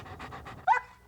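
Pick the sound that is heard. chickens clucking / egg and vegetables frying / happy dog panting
happy dog panting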